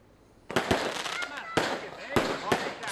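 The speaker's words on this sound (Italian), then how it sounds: "Fuochi d'artificio per la vittoria del centrodestra a Martellago dopo 24 anni." Fireworks bursting over Martellago for a centre-right election victory: sharp repeated bangs and crackles at irregular intervals, loud and fairly close, with a crowd talking and cheering beneath them.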